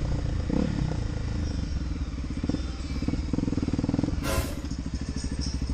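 A motorcycle engine rumbles steadily nearby with a clattering, pulsing drone, a brief burst of wind noise cutting through near the end.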